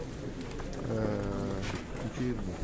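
Pigeons coo in short repeated phrases at a pigeon market in Grajewo, sitting under a steady crowd murmur and nearby people talking.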